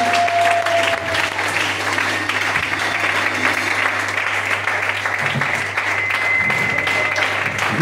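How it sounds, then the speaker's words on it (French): A church congregation breaks into sustained, loud applause over a low steady hum, with faint voices mixed into the clapping. "Donnez à Dieu une acclamation."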